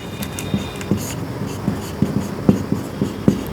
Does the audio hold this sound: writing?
yes